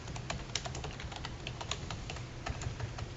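Typing on a computer keyboard while editing a button label in a spreadsheet, a rapid irregular run of crisp key clicks, close and steady throughout, with no talking.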